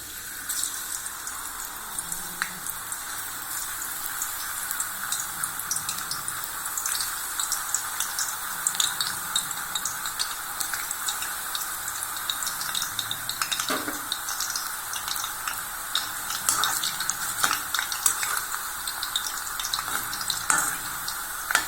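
Raw banana slices frying in hot oil in a kadai, a steady dense sizzle and bubbling that holds throughout with small crackles and pops, close and continuous with no talk.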